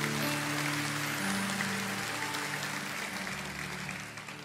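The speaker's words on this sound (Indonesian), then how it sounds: "Kasih tepuk tangan." Applause from a church congregation fills the space, a dense, steady patter of many hands that carries on throughout and slowly fades toward the end, with a sustained musical tone underneath.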